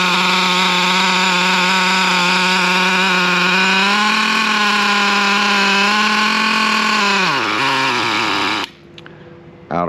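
A Traxxas T-Maxx nitro RC engine running rich screams loud and close at a high, steady pitch, sags in revs near the end, then cuts off abruptly into near silence.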